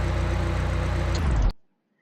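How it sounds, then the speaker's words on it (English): A simulated car engine idles smoothly after a misfire is fixed, giving an even, steady low hum that swells slightly before cutting off abruptly into silence. "you can now hear the difference in the engine tone."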